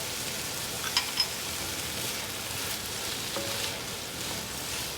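Ginger sizzling in a pan of shrimp fried rice, a soft, continuous hiss of frying with a couple of brief clinks of a utensil near the start, steady and fairly quiet.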